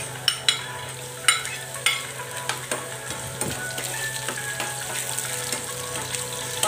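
Ginger and garlic sizzle in a pan for a chicken adobo, with a steady fry under the sharp clicks and scrapes of a utensil stirring.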